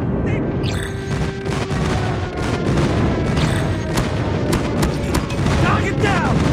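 Heavy booming blasts and crackling gunfire from an enemy airstrike in a military shooter game, a dense, continuous barrage of explosions layered with rattling shots and game voice callouts.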